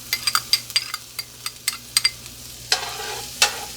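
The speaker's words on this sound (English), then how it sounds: "Now I'm going to go ahead and move my onions around until they get a little toasty." Chopped onion fries in bacon grease in a cast iron skillet, close up, with a soft crackling sizzle and a quick series of sharp scraping clinks as a utensil pushes the pieces around.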